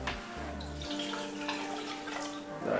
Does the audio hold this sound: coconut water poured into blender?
yes